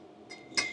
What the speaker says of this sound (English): Ooh, glass bottles as well.